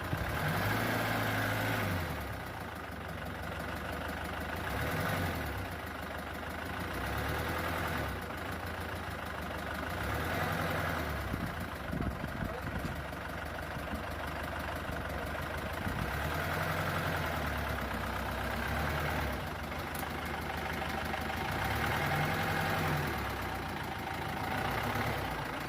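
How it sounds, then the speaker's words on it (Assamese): A 2017 Tata 207 DI pickup's diesel engine idles steadily up close, a continuous low rumbling throb with a regular pulsing rise and fall repeating every few seconds, heard alone without talk. "ইঞ্জিনৰ চাউণ্ডটো শুনি লওক।"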